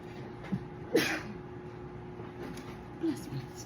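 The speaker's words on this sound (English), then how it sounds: "I'm about to sneeze, y'all." A single sneeze bursts out once in a home kitchen while fried oyster mushrooms are being cooked, faint and brief amid quiet room noise and low background sound.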